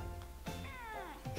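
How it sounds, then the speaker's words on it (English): A pet cat lets out a single clear, drawn-out meow close by, with faint rustling before and after in an indoor room. "And my little cat has just joined me."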